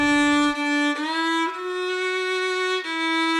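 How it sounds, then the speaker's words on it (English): A violin plays sustained, bowed notes with a rich harmonic tone, holding long pitches with a few clean changes of note, loud and close, with no voices. "That's the sound of Elisa Magana playing her violin just 2 years after receiving a diagnosis"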